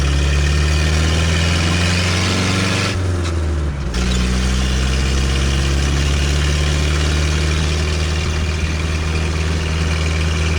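A 1932 Ford Model B roadster four-cylinder engine runs loud and steady, with a brief dip around a gear change where the gears grind, then pulls on again as the hot rod drives.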